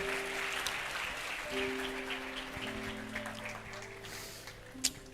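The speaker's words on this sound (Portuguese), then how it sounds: "Tome o seu lugar aplaudindo ao Senhor." A church congregation applauds, a faint, continuous wash of clapping with sustained musical tones underneath.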